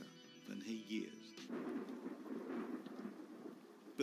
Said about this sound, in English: Thunder and torrential rain marred the hastily arranged wedding.